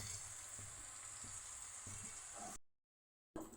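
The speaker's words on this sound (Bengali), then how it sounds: "ডালের জন্য এই সবজি ভাজা হচ্ছে" Vegetables frying in a pan for dal give a steady, close sizzle with faint stirring crackles, then cut off abruptly before the sizzling briefly resumes.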